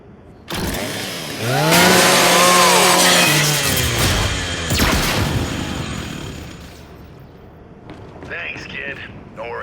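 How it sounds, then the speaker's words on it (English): A loud Lancer chainsaw in Gears of War 5 revs up with rising and falling engine whine, grinding for several seconds before cutting out, followed by a brief mechanical whir. "Just use your Lancer's chainsaw."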